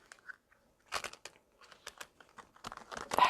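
Tarot cards crinkle and riffle in short, quiet bursts, soft papery flicks coming irregularly and close, getting a bit louder toward the end.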